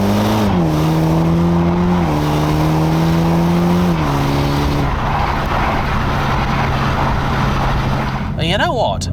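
A four-cylinder Toyota Supra is driven hard on a winding test road, its engine note climbing and stepping through gear changes before easing off, with a brief tire squeal near the end.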